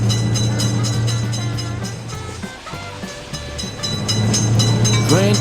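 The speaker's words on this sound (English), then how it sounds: "Quick train is noticed." Quick train rushing by in a railroad crossing video game, a loud steady rail rumble with clattering accents that dips briefly in the middle, then swells again.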